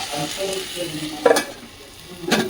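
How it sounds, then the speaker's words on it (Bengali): Close sizzling and crackling of cauliflower frying dry in a pan, with a couple of sharper scraping stirs partway through. "শুকনো শুকনো করে করছি এই ফুলকপিটা"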